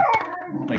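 A puppy howls close by in a short, loud, wavering cry with a yip at the start, heard alone.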